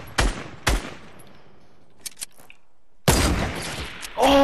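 Gunfire in the Fortnite video game comes as two sharp, loud shots early on, then a few faint pops and a dense burst of rapid fire that sets in near the end, with brief quiet between.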